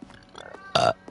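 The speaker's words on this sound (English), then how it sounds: "Oof, I had to burp." A single loud, throaty burp erupts from a person playing The Stanley Parable Ultra Deluxe, standing out sharply over faint background game sound and room noise.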